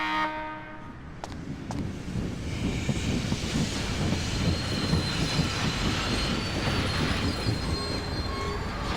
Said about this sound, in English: The Blackstone Railroad's back and ready for action.